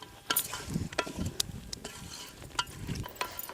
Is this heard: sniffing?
no